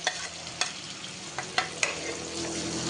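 Ginger garlic paste with turmeric and chili frying in a pan for prawn bhuna, a faint steady sizzle with a few light spatula taps, close and quiet.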